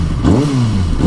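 A blue 2008 Kawasaki ZX6R sportbike engine revs up and back down in one brief, close, loud blip.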